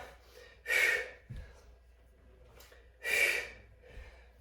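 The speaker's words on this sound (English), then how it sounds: "Exhaling as we drive knee to elbow." Two strong, breathy exhales about two seconds apart during a barre yoga knee-to-elbow exercise, close and clear, with faint softer breaths between them and no talking.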